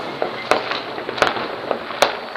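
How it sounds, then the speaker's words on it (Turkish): New Year fireworks and firecrackers bursting outdoors, sharp loud cracks repeating every half second or so over a continuous crackling hiss, no talking. "Bombalar koktu"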